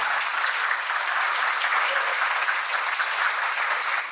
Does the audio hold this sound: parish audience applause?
yes